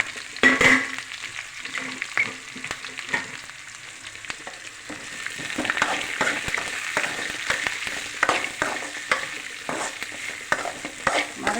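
Mustard seeds, garlic, green chili, onion and curry leaves fry in a pan for tapioca, crackling and sizzling with frequent stirring scrapes, moderately close and with no voices.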